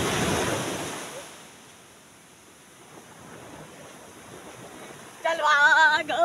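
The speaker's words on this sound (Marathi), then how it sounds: "आता आम्ही निवती समुद्रावर आलो आहे" Sea waves wash in at Nivati beach, a steady soft surf roar with wind buffeting the microphone, and a brief louder burst of other sound at the end.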